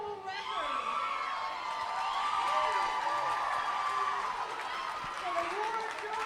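A standing-room-only crowd at a high school swim meet cheers, whoops and applauds after the opening race, a loud continuous wash of voices echoing in an indoor pool hall, with shouts rising and falling throughout.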